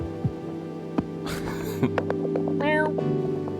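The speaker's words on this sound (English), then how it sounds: "If only I could understand what this cat has to say." A cat meows in a rising, wavering call near the end, over a steady low electrical hum with a few soft thumps, close and fairly quiet.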